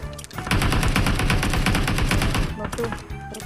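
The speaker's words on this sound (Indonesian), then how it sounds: "Keren sekali tembakannya" Close, loud automatic gunfire in the battle royale mobile game PUBG Mobile: a dense, unbroken burst of rapid shots lasting a couple of seconds, with a few separate shots trailing after it and voices faintly audible.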